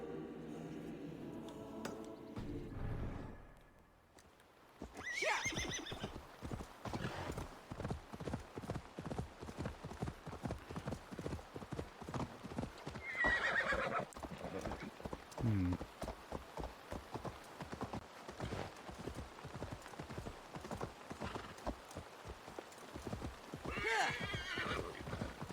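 A horse in Assassin's Creed Valhalla gallops, its hooves clip-clopping in a steady fast rhythm for most of the stretch, with a few whinnies and neighs rising above the hoofbeats, all fairly close.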